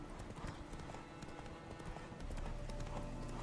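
Horse hooves gallop in The Witcher 3, a steady rapid clip-clop carrying through the whole stretch at close range with no talking over it.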